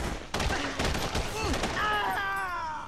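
Bursts of rapid gunfire in The Punisher (2004) video game crackle loudly in quick clusters, overlapped by shouted voices and game dialogue.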